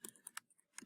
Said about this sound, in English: I guess I could try typing this.